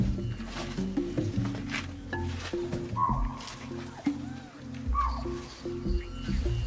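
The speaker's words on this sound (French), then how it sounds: "Nous entendons près de nous le cri d'alarme d'un cerf axis." Axis deer alarm calls ring out at close range in a forest, short sharp barks rising over a low, steady background hum while a person talks.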